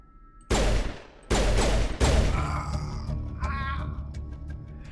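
Pistol fire in Mass Effect 1, with three loud, sharp shot bursts in the first two seconds followed by a ringing, echoing tail and softer sci-fi combat tones.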